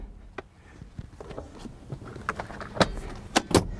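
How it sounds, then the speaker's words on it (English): Clicks, latch snaps and soft thumps as the rear seats of a 2017 Honda Ridgeline are folded down. Several sharp mechanical clacks cluster near the end, close by, with no talking. "You can put these seats back down."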